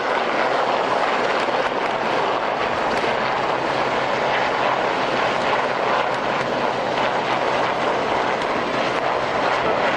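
Sea King Mark 4 helicopters of the Fleet Air Arm arriving at the 1996 Yeovil Airshow, carrying ammunition trailers for Land Rovers; a loud, steady rotor and engine roar holds throughout without pause.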